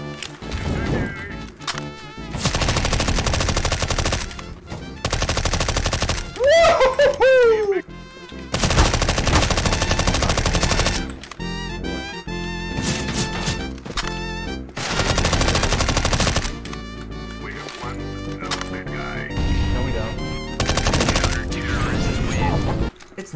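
Automatic MP5 submachine gun fire in a CS:GO match, loud rapid bursts starting and stopping repeatedly, with a few longer sustained sprays between short pauses.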